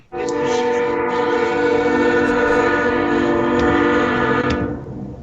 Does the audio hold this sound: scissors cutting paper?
no